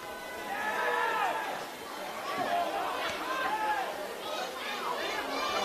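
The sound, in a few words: football crowd at Cromer Park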